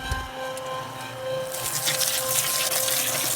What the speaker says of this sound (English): let's put some water on it.